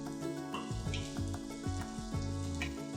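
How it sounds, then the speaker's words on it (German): Oil sizzles steadily in a hot pan with scallion, garlic and ginger, a few sharper crackles and the scrape of stirring over a constant frying hiss. "Ein Schuss Öl in die heiße Pfanne. Lauchzwiebel, Knoblauch und Ingwer anschwitzen."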